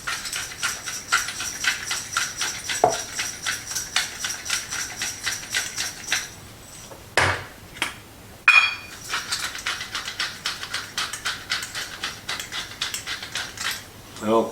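A utensil scrapes and ticks rhythmically against a pan while green beans coated in avocado oil, salt and pepper are stirred. The close, steady clicking is broken by a few brief pauses and knocks.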